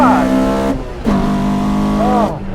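A 1987 Toyota Corolla FX16 with upgraded steering revs hard while driving, its engine note rising through two sharp climbs separated by a brief gear-change dip, loud and close from inside the car.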